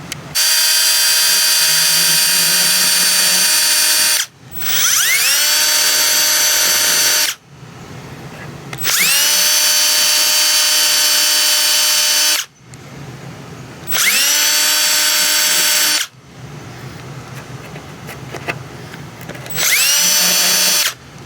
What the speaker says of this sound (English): And then we'll grind that a little bit.